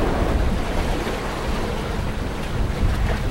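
Ocean waves washing steadily against the South Carolina coast under wind, a continuous broadband roar of surf with gusting wind noise across the microphone and no voices.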